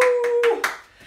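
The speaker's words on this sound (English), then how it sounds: "Give yourselves a big, big round of applause" Toddlers at a children's party give themselves a quick round of applause, a few distinct close claps over a sustained musical tone that fades out.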